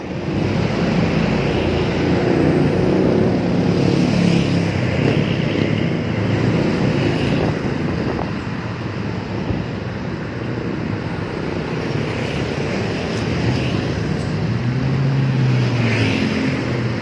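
Tour buses and other traffic pass along a road at Nagreg at night, a continuous roar of engines and tyres that rises and falls as vehicles go by, with no talk over it.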